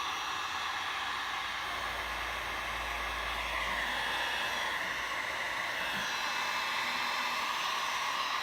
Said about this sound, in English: But it's the heat gun that's doing that.